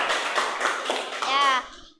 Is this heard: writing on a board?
no